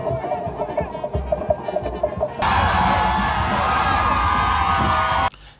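A dancing, singing crowd welcomes Macron in Cameroon: scattered shouts and chanting voices give way to a sudden, sustained roar of loud cheering and whooping that holds steady before cutting off.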